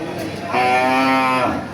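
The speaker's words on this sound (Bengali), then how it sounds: "এই দেখেন এটা গরু" A single cow moos once, a loud, drawn-out low call lasting about a second, close by with faint background chatter at a cattle market.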